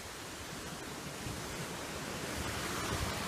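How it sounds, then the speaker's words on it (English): Small stream or river beside a 250-year-old house, a continuous broadband rush of flowing water, steady and fairly loud, with no speech. "A small stream or river."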